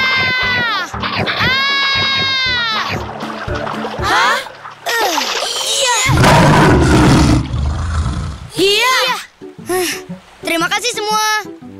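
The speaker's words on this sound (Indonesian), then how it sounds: "Tadi itu suara apa? Itulah singa." A cartoon lion lets out a loud, rough, sustained roar with a splashing burst in the middle, set among animated children's voices and song-like talk.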